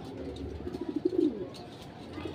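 Blue bar racing pigeons coo softly in a loft, a low rolling coo rising and falling at close range over faint background noise.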